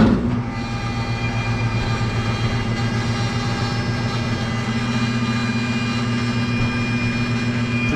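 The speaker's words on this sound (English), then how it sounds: "This is a screw air compressor, 10 horsepower. 145 psi." A 10 horsepower, 145 psi screw air compressor running at a steady, loud drone with strong low hum and layered tonal whine, starting with a brief surge then holding constant throughout.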